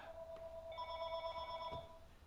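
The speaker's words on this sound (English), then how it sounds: "telephone is ringing" A telephone rings in a pottery workshop during kiln reconstruction, giving a faint, steady electronic ring of sustained tones that lasts about two seconds against a quiet background.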